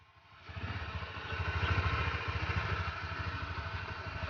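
Honda Click 125 scooter engine idling close by, a steady low pulsing putter with a slight rise in the middle and no voices over it.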